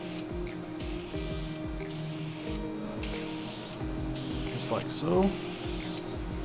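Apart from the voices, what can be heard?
spray can spraying paint onto plastic lenses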